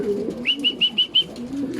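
Racing pigeons arrive at a loft during a derby fun race in Urdaneta, Pangasinan, with a close pigeon giving a run of five short, evenly spaced coos over a low murmur.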